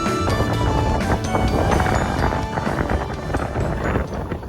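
Strong wind at a small rural train station buffets loudly and roughly throughout, with gusty rumbling bursts and rustling noise, no speech.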